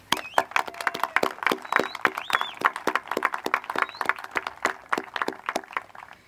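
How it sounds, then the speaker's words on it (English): A small outdoor crowd at a groundbreaking ceremony for a new high school in Draper claps, each sharp hand clap standing out in a loose, uneven patter, with a few faint whistles or voices mixed in. "We think that certainly deserves a round of applause."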